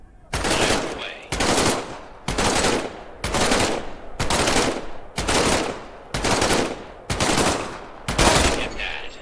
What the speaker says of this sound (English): Reach over your shoulder and grab your M1A1 submachine gun.